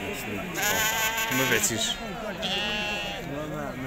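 Sheep bleating repeatedly at a livestock market where lambs are being sold, wavering calls overlapping one another and close by, with people talking throughout.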